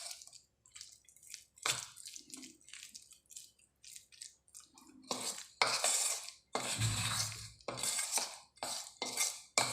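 Flour and okra being mixed by hand in a bowl, with irregular clinks, scrapes and soft mushy stirring sounds, sparse at first and then denser and closer toward the end.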